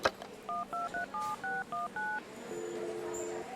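A public telephone is dialed, close by: a soft click, then eight short touch-tone beeps in an even rhythm, then a steady tone.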